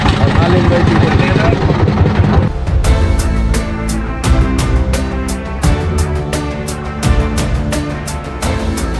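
An engine catches and runs on a tourist boat at Bholaganj Sada Pathor, the first seconds a dense rumble that settles into a loud, steady chugging idle, with people talking nearby throughout.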